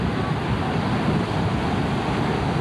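Sea waves wash on a beach at Matinhos or Caiobá, a dense, continuous surf roar with wind rumble throughout and no clear voices.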